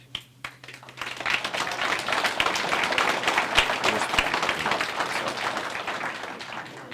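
A crowd at a county Republican convention applauds steadily: dense, sustained clapping that starts after a brief pause and continues at an even level to the end.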